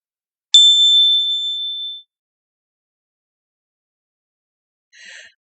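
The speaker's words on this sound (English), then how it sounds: "and then I got to ring the gong" A gong is struck once during a children's meditation storytime, giving a bright metallic ring that fades over about a second and a half, then near silence with a faint rustle at the end.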